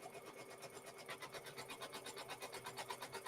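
A sewing machine stitches down the corners of a mosaic friendship quilt square, giving off a fast, even run of rhythmic mechanical pulses that is quiet and steady, with no voices.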